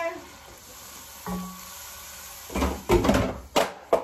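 Meat frying in hot oil in a pot on the fire for a rice dish, quiet at first, then bursts of loud crackling sizzle and a clatter toward the end.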